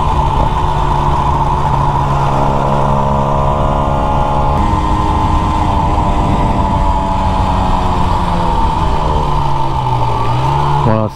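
Honda NSR motorcycle fitted with a Malossi 180 kit and 34 mm carburettor, its two-stroke engine running loud and close, steady revs with rising and falling pitch, no talk over it.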